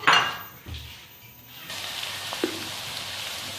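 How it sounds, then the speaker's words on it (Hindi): Chopped onions hit hot oil in a pan on a lit flame. After a clatter, a broad, steady sizzle swells up and keeps going close by. "इसके अंदर सबसे पहले मैं प्याज डालूंगी और इन्हें पिंक करूंगी।"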